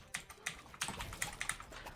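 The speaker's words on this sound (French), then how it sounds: "Et je vais taper un peu sur le clavier." Typing on a Ducky Channel One 2 mechanical keyboard: a quick, uneven run of crisp, close key clicks and clacks, faint overall, with no voices.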